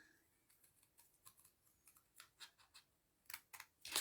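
Scissors cut paper for a pop-up card in a quiet room, giving a series of faint snips and rustles that build to sharper, louder cuts at the end.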